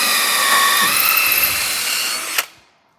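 A power drill finishes a pilot hole in a metal shaft on a 1000cc golf cart build: a loud, close, steady high whine that breaks off with a sharp catch and then spins down to silence.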